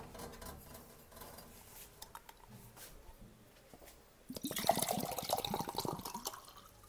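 Liquid poured into a glass indoors, a gurgling, splashing pour that starts partway through and runs for a couple of seconds, preceded by faint clinks and room noise.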